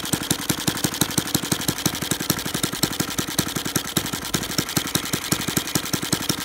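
A Saito FA-150 model airplane glow engine with a heavy prop idles nearby at about 1300 rpm with a rapid, regular popping putter, loud and steady throughout, each beat distinct.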